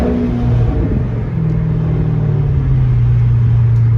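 A Chrysler 300's 5.7 HEMI V8 engine rumbles and revs up close, its deep tone climbing steadily, loud and continuous with no talking.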